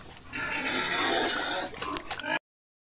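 A pig grunts and squeals repeatedly at close range, rough and loud, as it does on a backyard hog-raising farm, before the sound cuts off abruptly.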